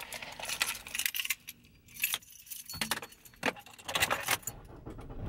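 A bunch of keys jangling close by in quick, irregular metallic shakes and clinks, in bursts over a few seconds, with faint car noise in the background.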